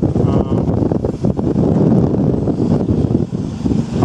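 Strong, gusty wind buffets a microphone outdoors, a continuous loud low rumble with surging gusts that never lets up.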